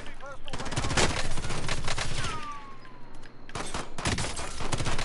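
Rapid bursts of gunfire from a Warzone firefight crackle throughout, dense and loud, with a brief lull midway before the shooting resumes; a voice speaks faintly underneath.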